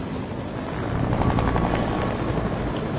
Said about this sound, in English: He's in the chopper!